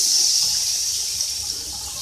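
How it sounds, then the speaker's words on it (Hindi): Beef broth (yakhni) is poured into a cooking pot, a brief steady rush of liquid that fades slightly over two seconds, with no talking. "तो ये मैं इसमें ऐड कर रही हूँ।"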